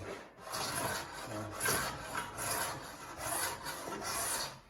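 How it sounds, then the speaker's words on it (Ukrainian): A hand plane struggling along a glued three-piece wooden board, making rough rasping strokes in a steady back-and-forth rhythm, close and fairly loud. "вона його приносить додому, пробує стругати і приблизно так"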